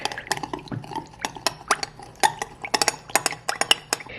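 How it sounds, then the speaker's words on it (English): A whisk clinks steadily against a bowl while chicken is stirred in a marinade, giving close, irregular metallic taps and scrapes with no talking. "Just gonna whisk."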